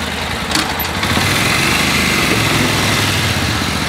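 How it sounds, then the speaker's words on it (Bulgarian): A Suzuki motorcycle engine runs at a steady idle close by at a night gathering of motorcyclists in Haskovo. A loud, continuous buzzing drone holds throughout, with no speech. "Те едно Сузуки и се чува звука му."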